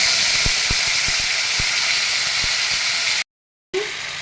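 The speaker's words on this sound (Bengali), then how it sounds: "এবার একটু আমি আদা কাঁচা লঙ্কা পেস্ট দিয়ে" Ginger and green chilli paste lands in hot tempering oil with bay leaf and cardamom, producing a strong, steady hissing sizzle with faint ticks, then a short dead gap before the sizzle returns.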